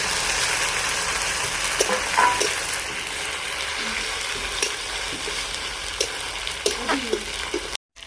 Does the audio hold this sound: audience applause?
no